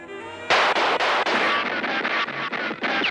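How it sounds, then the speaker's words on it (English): Cartoon gunshots crack out in a rapid, loud burst of about a dozen sharp reports, coming in quick succession and close up, with a brief musical tone before the firing starts. "Use your gun."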